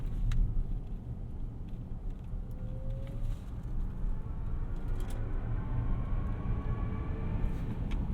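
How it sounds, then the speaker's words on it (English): Synthetic engine noise played through the speakers of a 2024 Chevrolet Blazer EV RS AWD while driving, a steady low hum blended with road rumble inside the cabin, rising faintly in pitch. "It gives you that fake speaker sound just to make you feel like you're zooming."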